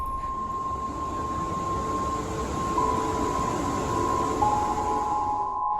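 A steady rushing hum of a rail station fills the space, with a sustained high electrical tone and a faint shift in pitch partway through.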